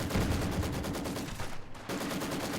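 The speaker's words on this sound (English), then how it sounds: "they're going to stand and get shot at by this HMG unit" A heavy machine gun team in Company of Heroes 2 fires a sustained, evenly pulsing rattle of rounds, loud and close, with a brief dip before the fire resumes.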